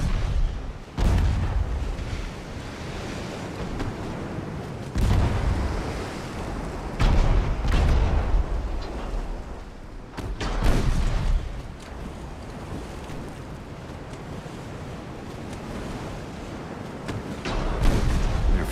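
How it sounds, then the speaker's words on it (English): Naval guns firing high-explosive shells in the warship game Ultimate Admiral: Dreadnoughts, with heavy booming salvos at intervals over a continuous rumbling battle din. "Firing HE out of all of our guns"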